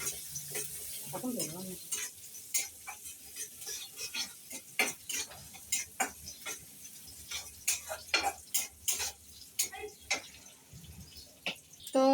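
Small mola fish are washed by hand in a pot of water, giving intermittent close splashes and sloshes in an uneven rhythm, with a brief voice early on.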